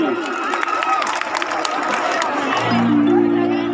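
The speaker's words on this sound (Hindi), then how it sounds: "अरे कोई जोरदार ताली होना चाहिए" A crowd at a live show in Kabirdham claps and cheers in a dense burst, with voices and music tones mixed in, and a sustained musical note rising near the end.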